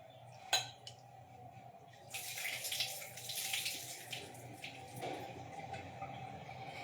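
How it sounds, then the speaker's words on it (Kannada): Water is poured into a grinder jar to grind batter in a kitchen, a quiet start that swells at about two seconds into a steady splashing pour that carries on to the end. "ನೀರು ಹಾಕಿ"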